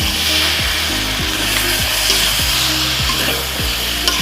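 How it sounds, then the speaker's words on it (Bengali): Vegetables with spices stirred in a pan while cooking eggplant and potatoes, heard as a steady loud sizzle with rhythmic scraping strokes of a spatula roughly every half second, no talk. "মশলার সাথে ভালো করে মিশিয়ে দিচ্ছি।"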